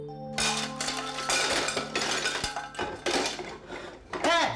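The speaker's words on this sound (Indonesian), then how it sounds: "kalau cuci piring jangan berisi dong" Dishes being washed clatter and clink steadily, with plates, pots and cutlery knocking together close by, and a sharper ringing clink near the end.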